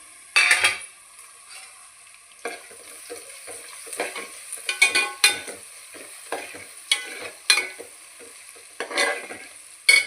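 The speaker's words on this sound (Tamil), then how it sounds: "இப்போ வெங்காயம் வதங்கிடுச்சான்னு செக் பண்ணலாம்." Onions for a fish curry sauté in a pan under repeated spoon stirring, sharp scraping bursts and clatter over a low sizzle, close, with quiet gaps and no talking.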